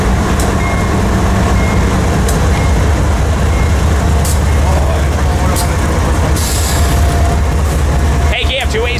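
Heavy diesel freight locomotives rumble steadily past, with a faint beeping tone and a brief squeal near the end; no clear talk.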